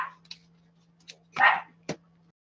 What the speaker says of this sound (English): Hubby went out, so the dog's going crazy again.